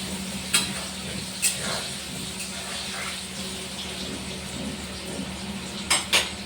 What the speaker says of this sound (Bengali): আলুগুলো আমরা ভেজে করে নেবো